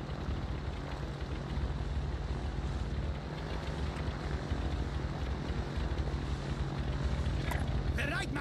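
An aircraft flies in a video game, giving a steady, rumbling rotor-like drone that continues underneath someone talking.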